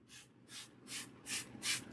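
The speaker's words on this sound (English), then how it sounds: "So she sprays the hair." A spray bottle mists water onto hair during a scalp cleansing routine, five short hissing bursts at an even, steady rhythm, close and fairly soft.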